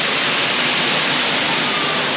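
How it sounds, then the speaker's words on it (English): Waterfall inside a cave at Disneyland Paris, a dense, steady rushing roar of falling water filling the space, loud and constant with no breaks and no voices. "Can you hear the waterfall?"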